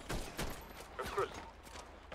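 Gunfire in the video game GTA during a street shootout: a quick scatter of muffled shots in short bursts, mixed with talk and fairly low in level.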